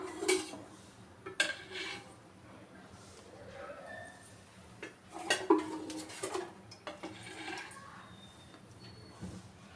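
Metal clatter of a kadai being set on a stove and handled for chicken kurma, with several sharp clanks and scrapes over a low steady hum, close and moderately loud.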